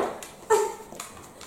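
A dog indoors gives a short bark and faint whimpering whines, close by, with a few soft scuffles in between.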